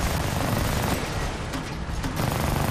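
Sustained rapid gunfire from a weapon in the video game Army of Two, a dense continuous burst of shots with a few sharper cracks standing out midway.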